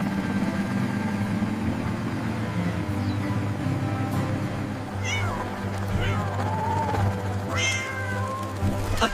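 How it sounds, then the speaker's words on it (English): A cartoon cat meows a couple of times, rising and falling, over a steady engine-like hum and busy background sound. "A cat! It's moving fast!"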